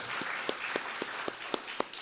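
A church congregation at a Korean Sunday worship service in Oakland applauds, a steady patter of many hands with regular louder claps standing out.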